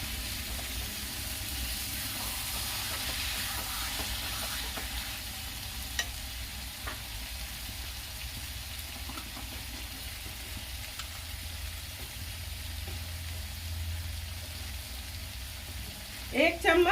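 Chicken curry masala sizzles and fries steadily in a spoonful of ghee in a pan, a continuous crackling hiss with a louder clatter near the end.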